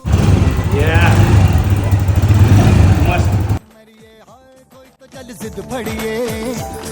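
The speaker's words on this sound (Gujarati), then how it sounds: "બાઇક ચાલુ કરવું એનો અવાજ એકદમ સ્મૂથલી ચાલુ છે" A CNG-powered motorcycle engine runs close by with a loud, steady drone for about three and a half seconds, then cuts off abruptly and music takes over.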